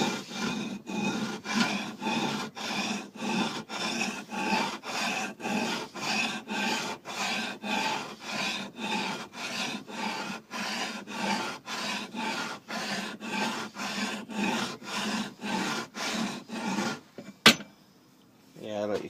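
An old axe blade is slid back and forth on a sharpening surface, giving a close, even rhythm of about thirty rasping strokes, ending with a sharp knock.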